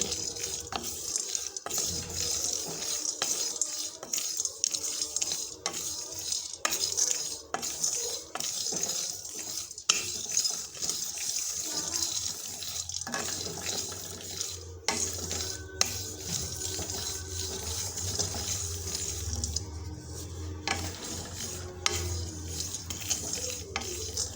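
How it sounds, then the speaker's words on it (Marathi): A spoon stirs and scrapes as lentils are dry-roasted in a pan for a homemade vegetable spice masala. Irregular metallic clinks and scraping repeat close by, with no talking. "याच्यामध्येच आपण हे डाळवं भाजून घेऊ"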